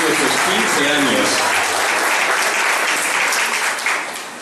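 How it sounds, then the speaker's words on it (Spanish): Loud, sustained applause for a quinceañera and her parents at her fifteenth-birthday ceremony, a dense crowd clapping steadily for several seconds before tapering off at the end. "fuerte el aplauso de nuevo para nuestra quinceañera y sus padres"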